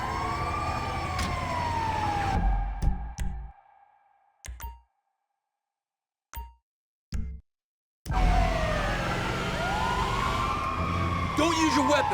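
A wailing ambulance siren in a heist video game rises and falls loudly, cutting out abruptly into near silence with brief bursts before resuming, with voices and game noise over it.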